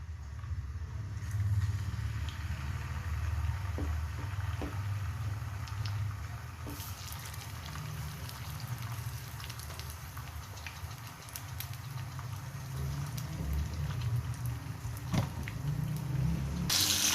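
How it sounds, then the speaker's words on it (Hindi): Pieces of fish sizzle steadily in hot oil for a Bengali-style masala fish curry, a soft, continuous crackling hiss at low level with a few brief pops and no talking. "देखिए फिश फ्राई हो रही है"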